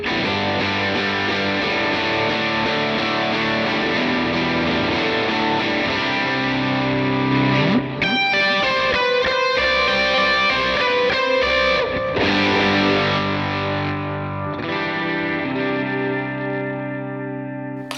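Electric guitar played through a Line 6 HX Stomp with the amp drive switched on rings out in sustained, distorted chords with chorus-like shimmer and echo, loud and close, with a brief flurry of picked notes midway and no talking.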